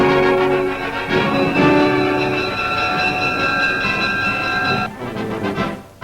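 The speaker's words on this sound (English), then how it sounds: "Boarding a special train for Washington, they'll tour 300 cities from coast to coast." A special train leaves for Washington in 1942, its loud, sustained horn blaring over the rumble of the moving cars before fading near the end.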